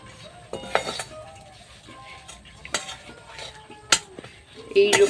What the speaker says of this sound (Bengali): এটা আমি নাড়িয়ে নাড়িয়ে শুকনো করে নেব